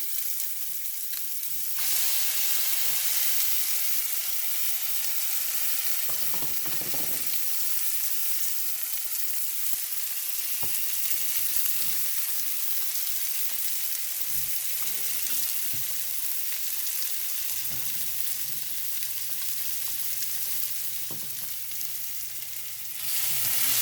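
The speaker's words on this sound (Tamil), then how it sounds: "இப்போ நாங்கள் அடைச்சி அடித்து அடித்து வச்சிருக்கிற மசாலாவை ஊற்ற போகிறோம்" Ground egg masala poured into hot oil in a pan, sizzling and frying steadily and loudly up close for the whole stretch, with a few stirring scrapes and knocks.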